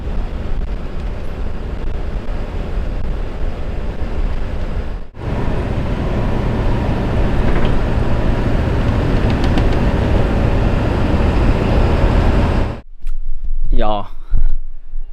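A bus drives after a repair with a steady, loud engine and road rumble, broken by a brief dip midway and a sudden drop near the end, where other sounds follow.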